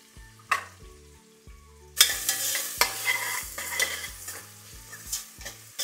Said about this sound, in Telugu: సన్నగా తరిగి పెట్టుకున్న ఉల్లిపాయ ముక్కలు, ఒక పచ్చిమిర్చి కట్ చేసి వేస్తున్నాం